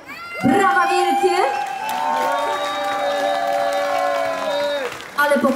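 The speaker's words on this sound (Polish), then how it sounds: "Brawa wielkie!" Audience applause and cheering after a youth vocal academy performance at a youth culture centre. A loud crowd swell is mixed with a sustained sung or shouted tone held over it. The applause carries steadily for several seconds.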